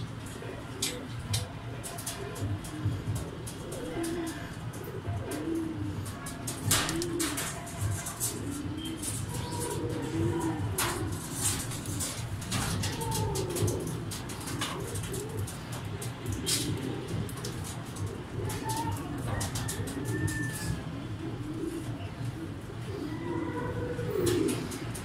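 Racing pigeons at a loft after a race lap coo repeatedly, soft rolling calls close by over a steady low background hum, with scattered clicks and sharp taps and occasional distant chatter throughout.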